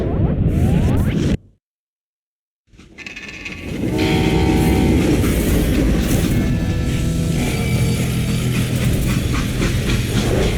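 A freight train in the Call of Juarez Gunslinger game rumbles loudly with rattling wagons and clanking metal after a brief burst of noise and a second of silence, then a heavy continuous roar with tonal squeals.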